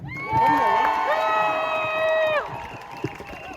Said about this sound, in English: Big round of applause for Tala.